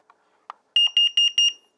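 A carbon monoxide detector alarm goes off after a couple of faint clicks, sounding four sharp, loud, high-pitched beeps in quick, even succession.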